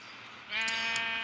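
A single close sheep bleat from Minecraft, a wavering nasal "baa" that swells in after a short pause and holds for most of a second, with no talking.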